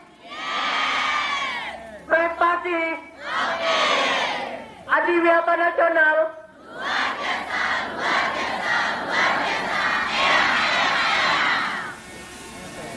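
Crowds of high school students from SMA Negeri 1 Tambusai shout rhythmic school chants and yells at a student council debate, loud and continuous with repeated bursts of massed voices.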